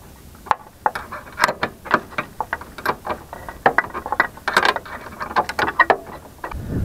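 Ratchet or spanner tightening bolts on the rear axle of a Rover 216 GTI, a rapid series of sharp metallic clicks and knocks in irregular bursts, close and fairly loud, with no talking.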